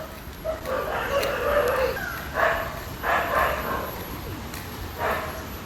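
Several dogs bark near a river in repeated short bursts, spaced about a second apart, at moderate distance against a steady outdoor background with a faint high hum.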